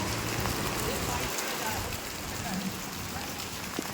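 Steady monsoon rain during flooding in Beed patters and hisses across the whole clip, a dense continuous wash of drops with a low rumble underneath, no pauses.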